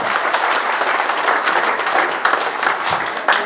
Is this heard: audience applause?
yes